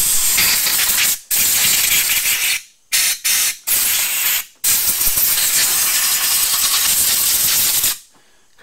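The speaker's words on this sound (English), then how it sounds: "compressed air and blow everything out" Compressed air blasts through a carburetor in loud, harsh hissing bursts, several short spurts followed by a long sustained blow that cuts off abruptly.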